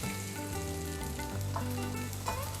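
Mango pieces frying with spices in a pan give off a low, continuous sizzle, quiet and close, with a few brief clinks or stirring touches over a faint steady background hum.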